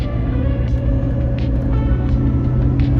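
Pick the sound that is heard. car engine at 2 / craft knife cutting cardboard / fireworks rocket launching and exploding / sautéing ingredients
car engine at 2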